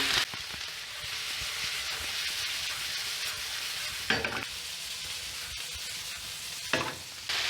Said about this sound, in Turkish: Onları ekledikten sonra güzel bir karıştırıyorum.